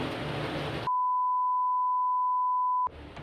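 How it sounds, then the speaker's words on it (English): A single sustained electronic beep tone rings for about two seconds, cutting in abruptly over background noise and then stopping. "My alarm went off"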